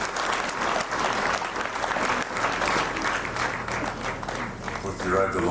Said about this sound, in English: Let's give Mom another round of applause.